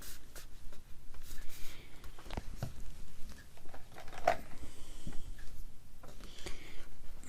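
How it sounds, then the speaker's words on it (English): A Teflon bone folder pressing and rubbing along glued paper for a ring-bound journal, giving a steady close scraping and rustling with a few sharper taps. "Use my new Teflon bone folder. Fold it over till the glue sticks."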